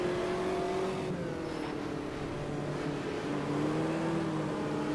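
Race car engine in Automobilista 2 holding a steady, loud drone with shifting pitch as revs rise and fall, continuous throughout with no talk.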